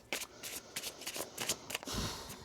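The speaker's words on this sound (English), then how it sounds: "One more shuffle." A deck of tarot cards being shuffled in several quick riffling bursts, crisp papery flutters repeating close by and alone, with a brief louder rustle near the end.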